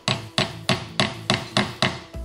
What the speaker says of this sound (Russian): Собираем коробку на BMW с помощью молотка.